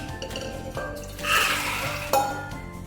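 Pressure cooker handled on a home kitchen counter while cooking black pea usal, with metallic clinks and clatter, a brief louder rustling burst in the middle, and a sharp knock near the end.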